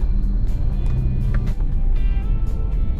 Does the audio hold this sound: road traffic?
yes